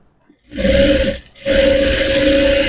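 An electric sewing machine stitching piping on a blouse runs in two loud, steady bursts with a brief pause between, a constant motor whine over rapid needle clatter, close up and without talk.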